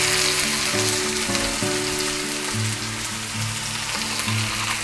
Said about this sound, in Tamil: சேர்த்து இந்த வெங்காயம் வந்து நல்லா வதங்கட்டும்.